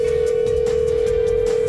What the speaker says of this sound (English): Calling Jessica Atkinson.